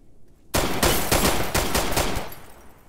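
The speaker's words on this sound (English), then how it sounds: "is that them shooting at you?" Loud gunfire in the video game Arma 3 starts abruptly after a brief quiet moment. Rapid bursts of shots follow close together, then fade out toward the end.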